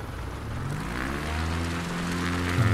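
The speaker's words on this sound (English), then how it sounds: "We're taking off and turning left." A propeller plane in Microsoft Flight Simulator 2020 on a Patagonia bush flight, its engine droning steadily and rising in pitch as it powers up for takeoff.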